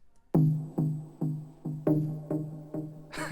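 A percussive synth patch plays an arpeggio of eight evenly spaced plucked notes, each with a sharp attack and quick decay, close and clear with no voices.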